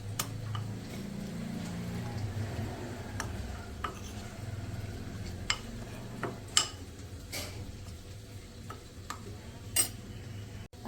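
Spice masala for achari chicken being stirred and mixed with a spoon, giving quiet scraping with sharp intermittent clinks against the bowl, close and faint with no talking.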